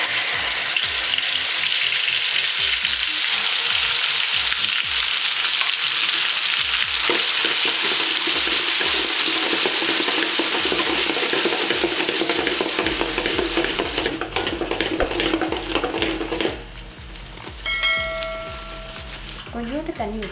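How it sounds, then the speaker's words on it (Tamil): Chili paste fries in hot oil and is stirred, a loud steady sizzle with scraping stirs, calming briefly near the end before crackling again. "இப்போ அதே எண்ணெயில் நம்ம மிளகா சாந்து போட்டுடலாம்."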